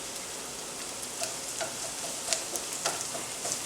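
Chopped garlic and sweet red onions sweat in a hot pan, giving a steady soft sizzle with scattered faint pops and crackles, alone and fairly quiet.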